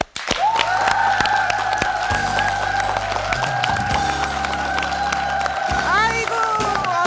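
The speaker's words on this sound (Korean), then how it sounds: "큰 박수로 환영해 주십시오" A studio audience claps steadily to welcome a guest on a Korean talk show, the applause running for several seconds with musical tones over it.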